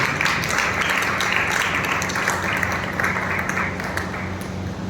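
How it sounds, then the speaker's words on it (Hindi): A congregation at a Sunday church service claps together in praise, a steady, fairly loud wash of hands clapping that holds for several seconds before easing slightly, with a faint voice beneath. "आमीन, ताली बजा के परमेश्वर को।"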